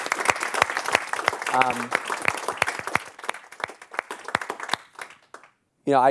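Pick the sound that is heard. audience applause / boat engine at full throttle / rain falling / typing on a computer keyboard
audience applause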